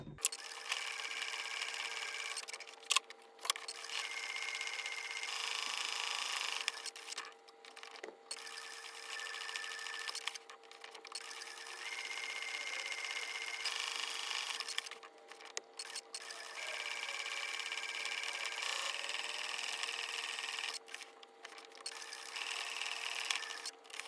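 Sewing machine running free motion embroidery with green thread, stitching stems on a scrappy Liberty fabric textile piece; steady whirring bursts with short pauses between runs, close and alone.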